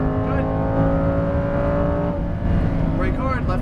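Lamborghini Huracan Performante accelerating at full throttle on a racetrack, a loud rising engine howl heard from inside the car, steady and continuous with rising tones near the end.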